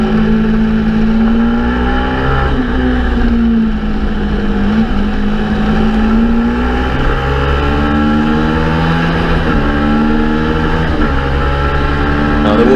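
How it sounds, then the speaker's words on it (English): Racing motorcycles ridden hard on a track at a Teesside practice day, captured onboard, with a loud steady engine drone whose pitch rises and falls through repeated gear changes and revving. "Just took a few clips of all four of us really riding the bikes on Friday"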